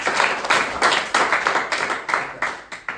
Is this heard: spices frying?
no